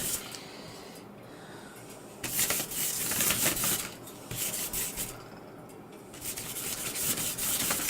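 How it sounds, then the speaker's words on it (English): A large 1.5 inch flat brush roughly sweeps a light coat of paint across a mixed media page, making soft, close, bristly swishing strokes with louder bursts in between. "So I'm just roughly brushing this on. This is with the big flat brush."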